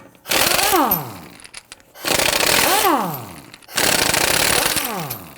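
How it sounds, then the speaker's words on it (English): A 19mm socket on what sounds like an impact wrench loosening lug studs on a 2001-2009 Volvo S60, three loud close bursts of rapid hammering, each about a second long, with a falling whine and short pauses between. "we're going to use our 19mm socket to loosen the lug studs"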